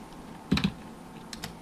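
A new computer keyboard being typed on: a short cluster of two or three close, crisp key clacks, then a couple of fainter taps a moment later, in a quiet room.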